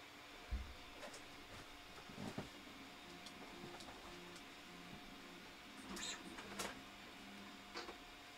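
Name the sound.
Artillery Sidewinder X1 3D printer running, fan noise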